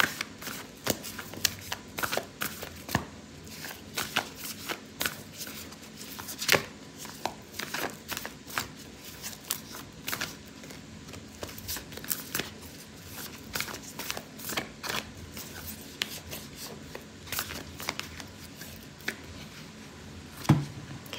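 Oracle cards are shuffled by hand in a steady run of soft, crisp flicks and riffles that continues for about twenty seconds, quiet and close, with no speech.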